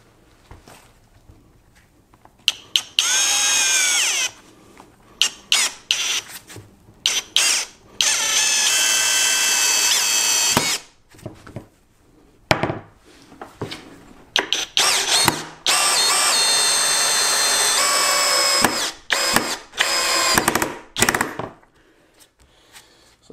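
A Greenworks cordless drill set to 18 drives a 3.5 inch screw into wood in several loud, close bursts. The motor whines at high pitch with short pauses and quick stop-start pulses between runs.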